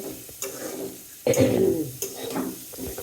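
Bitter gourd (ucche bhaji) frying in a pan, with bursts of scraping stirring and sizzling at intervals over a steady low crackle, close by; a brief cough-like sound is also present.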